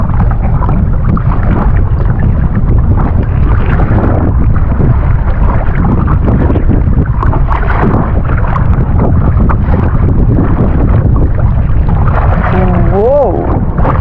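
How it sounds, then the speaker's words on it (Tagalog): Strong wind at sea buffets the microphone aboard a small boat as waves build at high tide, a constant loud roaring rush with no let-up, and voices speak faintly under it. "Lakas hangin."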